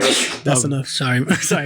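A single sharp sneeze bursts out close to the microphone at the start, followed at once by a person speaking in a conversational podcast setting.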